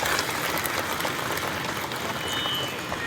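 A crowd at a Bhagwat Katha gathering in Bihar Sharif claps steadily for a few seconds, a dense, even patter of applause heard from within the audience.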